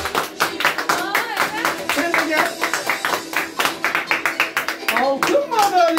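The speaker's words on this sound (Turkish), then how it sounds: "Alkışlar zayıf." Applause at a circumcision celebration, with a crowd clapping in quick irregular bursts alongside someone talking over them, fairly loud and close throughout.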